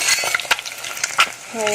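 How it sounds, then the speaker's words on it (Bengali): Crackling, sizzling eggs frying in oil in a pan with a few sharp clinks of a utensil, close by, ending with a faint steady tone. "আমি এর মধ্যে দিয়ে আমি ডিমগুলো ভেজে নেব"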